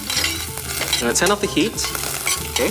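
Mushrooms and dried shrimp sizzle and scrape as they are stir-fried in a pan, with continuous frying under a voice speaking briefly.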